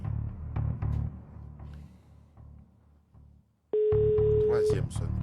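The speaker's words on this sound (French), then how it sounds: "Première sonnerie." A telephone rings during a live televised SMS game draw, a single long electronic ring tone starting partway through, with a presenter talking over the whole stretch.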